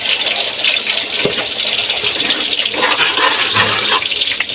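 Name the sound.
water pouring into cooking pot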